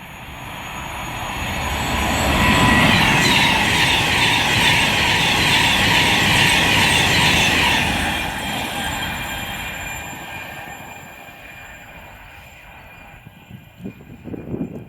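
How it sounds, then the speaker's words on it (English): A Virgin Trains Class 390 Pendolino passing on the West Coast Main Line at Hartford: a loud rushing roar that builds, holds for several seconds, then fades away into the distance. "inbound down the distance we have a Class 390 Pendolino, operated by Virgin Trains bound for Liverpool Lime Street"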